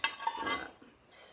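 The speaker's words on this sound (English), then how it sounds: "You don't want to let your cheese cook, you just literally want to stir it in." A utensil stirs cheese into a thick cauliflower cheese sauce in a pot, giving a few soft scraping and clinking strokes, faint and close, with no talk.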